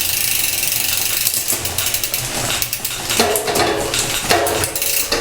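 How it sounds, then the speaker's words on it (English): SRAM XPLR AXS electronic shifting on a State Bicycle Co. All Road 6061 bike runs through several gear changes in a row. Rapid ratcheting clicks sound close and loud, with a burst of mechanical clatter at each shift. "I'm just pressing and holding on the shift lever there."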